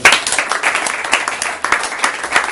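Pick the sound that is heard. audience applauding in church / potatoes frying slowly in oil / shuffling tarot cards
audience applauding in church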